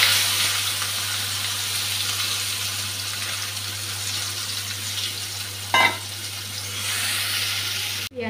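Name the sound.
onion and green chili frying in hot oil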